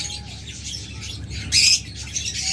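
A pair of pet birds offered for sale squawks in one sharp, loud burst partway through, with softer chirps and cage noise before and after.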